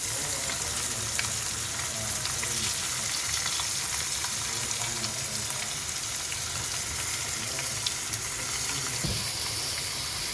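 Two medium onions frying in a pan for dal khichdi, a continuous dense sizzle held at an even level throughout, close and without talk.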